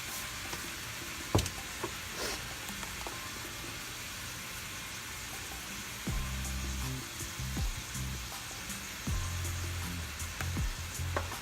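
Seasoned meat fries in a pan with a constant soft sizzle, joined by scraping stir strokes and occasional clinks, growing busier toward the end.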